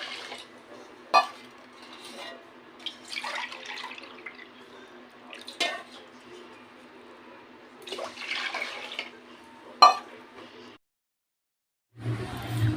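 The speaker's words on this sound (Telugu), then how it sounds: "ఒక కప్పు బియ్యానికి 2 కప్పులు నీళ్ళు వేసుకున్నాను." Water is poured onto washed rice in a cooking pot at a ratio of two cups to one, giving intermittent close splashing and trickling bursts with short quiet gaps between them and no talking.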